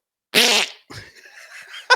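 A voice imitates a fart with a loud buzzing blurt, followed by softer sputtering vocal noises, close to the microphone.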